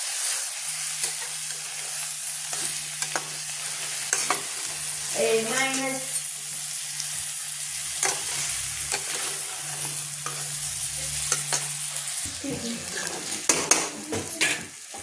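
Boiled brinjal fries in a pan with a constant close sizzle, punctuated by repeated scraping and clinking of a spoon stirring against the pan, while a steady low hum runs underneath and a brief whistling tone rises midway.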